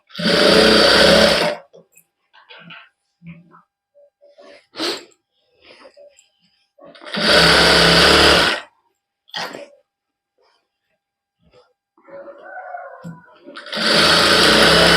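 A sewing machine stitching a salwar belt whirs loudly in three separate bursts, each lasting a second or two. Quiet handling noises fill the gaps between runs.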